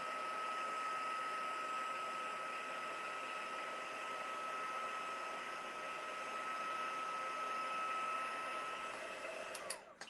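A heat gun blows steadily with a constant whine and airy hiss while heat-embossing powder on a card melts to gold, running alone and unbroken for about nine seconds before a brief clatter at the end.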